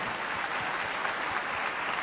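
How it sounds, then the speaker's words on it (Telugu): A church congregation claps loudly and steadily, a dense wash of applause filling the whole stretch with no voices standing out. "గట్టిగా చప్పట్లు కొట్టి దేవుని నామమున మహిమపరచండి"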